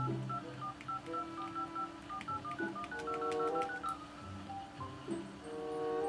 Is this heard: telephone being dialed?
yes